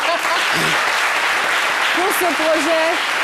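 An audience applauds steadily with a dense patter of clapping, while a voice speaks briefly over it.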